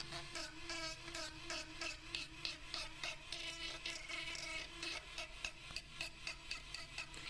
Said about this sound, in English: I'm going to use that same cutoff wheel to now make the hair lines on the